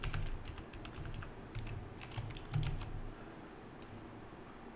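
Typing on a computer keyboard, a quick run of close, light key clicks in uneven bursts over a low background hum.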